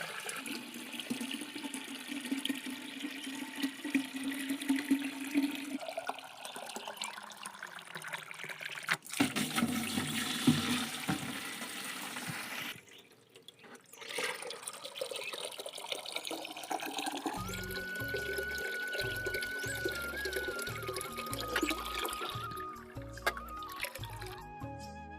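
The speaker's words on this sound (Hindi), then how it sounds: "पानी भर लेंगे पहले" A tap runs as water fills containers in a village home, giving a steady close trickle and splash that shifts in tone partway through, with other household noise joining toward the end.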